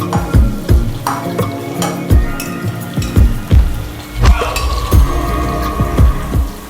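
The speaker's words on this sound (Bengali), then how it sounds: "আমি এখন পেঁয়াজটা বেরেস্তা দিয়ে দিলাম। প্যান মোটামুটি গরম হয়ে গিয়েছে।" About a cup of sliced onions frying in hot oil in a heated pan for pulao. A loud, continuous sizzle is broken by rhythmic stirring scrapes and knocks roughly every half second.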